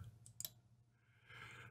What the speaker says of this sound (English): you can hear it clicking on and off